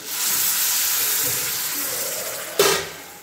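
A quarter litre of milk goes into a pan of well-roasted grated carrots for carrot halwa, a broad, steady hissing wash with a sharp sizzling burst near the end.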